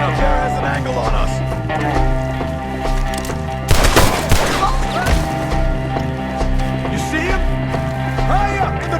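Video-game gunfire in Red Dead Redemption 2: rapid bursts of shots crackle, with a dense, loud volley around the middle, over a steady musical backdrop and shouted character voices.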